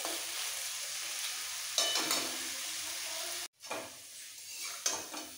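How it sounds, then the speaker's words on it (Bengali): Potato pieces sizzle steadily in hot oil in a pan while being stirred, with scraping stir strokes over the constant frying hiss. The sound cuts off briefly partway through, then resumes. "আলু ভাজা হয়ে যাবে।"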